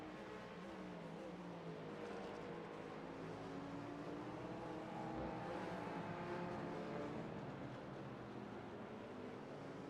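GT4 race cars at the Homestead road course drone steadily with engines holding high revs, their pitch rising and falling as several cars run close together, loud and continuous with no talk.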